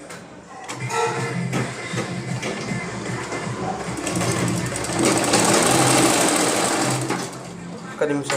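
A sewing machine stitching fabric for shorts, running in fast rattling bursts that grow louder and steadier toward the end, close by, with a brief spoken remark.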